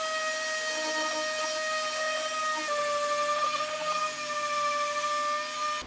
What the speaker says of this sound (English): just gotta sand it up a little bit